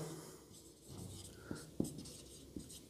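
A pen writes on paper with a few faint, close scratches and light taps across a brief quiet stretch, with no voices.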